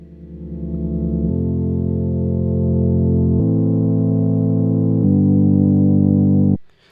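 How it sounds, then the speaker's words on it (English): Sustained, clean synth key tones from Serum playing a slow chord sequence, bright and steady with a slight electronic sheen, ending abruptly. "really nice pure key sound"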